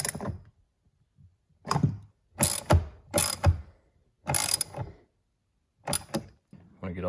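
A ratchet clicks as the bolts are tightened on a Chevy Venture side view mirror, coming in several close, loud bursts of rapid pawl clicks separated by short pauses.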